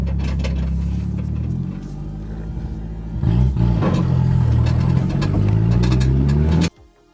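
A car engine in a 200 revs hard with a rattling exhaust knocking against the rear axle, a loud rumbling pull that rises, holds, then cuts off abruptly near the end.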